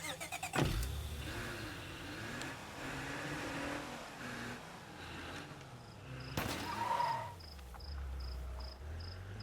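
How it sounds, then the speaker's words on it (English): A car driving in State of Decay 2 on Meagher Valley, its engine running steadily under loud crickets. Sharp bangs of the vehicle hitting obstacles come near the start and again later. "this car's too ridiculous to drive. It gets hung up on everything. Rolls over."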